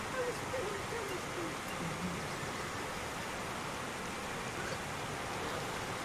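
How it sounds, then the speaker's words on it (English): Steady, even rainfall in the side-scrolling action game Dust: An Elysian Tail, a broad continuous hiss running unbroken throughout, with faint chirps and soft game sounds under it. "I'm a sucker for good rain in video games"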